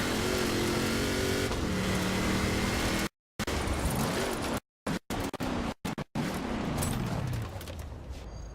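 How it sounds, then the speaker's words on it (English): Racing hovercraft in the video game Forza Horizon 4 gives a loud continuous engine roar with rising and falling revs, broken by several short gaps of silence. "Alright, time to go race a hovercraft."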